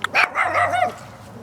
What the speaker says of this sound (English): It's either a Maltese or a Bichon Frise.